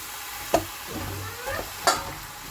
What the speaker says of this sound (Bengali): চিকেনটা কষানো হচ্ছে মানে ভাজা ভাজা হচ্ছে